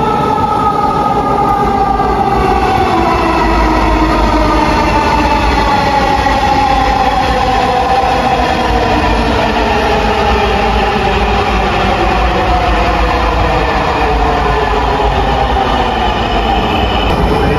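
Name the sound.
metro train arriving at station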